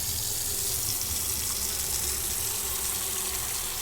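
Tap water pours steadily into a container in the Autopsy Simulator game, a constant broadband rush with no talk, holding even throughout.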